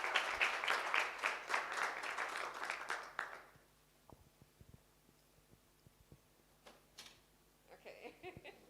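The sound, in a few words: audience applause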